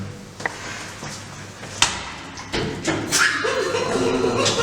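A car door is shut during a comedic behind-the-scenes shoot: a few soft thuds and rattles stand out over quiet background noise.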